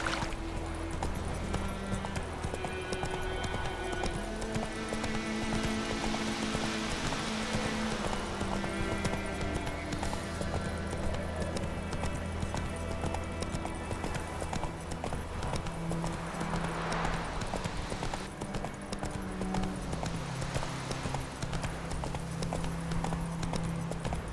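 In The Witcher 3, the horse Roach gallops with rapid, rhythmic clip-clop hoofbeats that run steadily and close by, over a continuous layer of game ambience.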